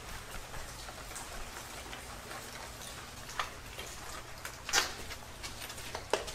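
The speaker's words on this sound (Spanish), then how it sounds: "está lloviendo muchísimo" Rain falling heavily around an abandoned hospital, a faint continuous patter with scattered sharp drips and ticks landing close by, quiet and steady throughout.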